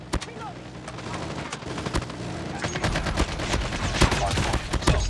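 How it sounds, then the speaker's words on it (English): Rapid automatic gunfire from a deployed sentry gun crackles through a multiplayer shooter hardpoint match, a dense, continuous stream of shots with an announcer voice speaking over the action. "Sentry gun ready for deployment. Hardpoint contested. Sentry gun deployed."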